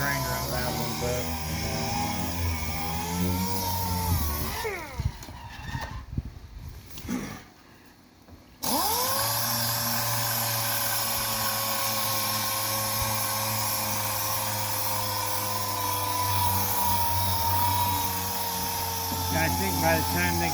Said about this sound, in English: I might grind around that a little bit.